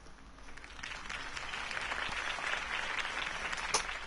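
A crowd applauds in the Batman Telltale video game, a steady wash of clapping that rises slightly and holds, moderately distant and alone without talk.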